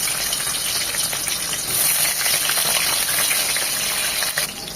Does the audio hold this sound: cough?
no